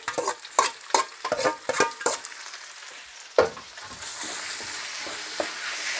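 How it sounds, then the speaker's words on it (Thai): Duck meat stir-fried in hot oil with garlic in a pan: a run of sharp spatula scrapes and clacks over a steady sizzle that swells and grows louder toward the end, close by, with no speech. "เอาเนื้อลงมาผัดเลยนะครับ"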